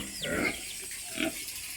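Pigs grunt and squeal in two short bursts close by, with a faint steady background hiss.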